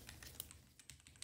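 Rapid keystrokes on a computer keyboard, including repeated presses of the F key, during a Hypixel Bedwars game; a dozen or so quick, light clicks in an uneven rhythm, faint and close, with no talk.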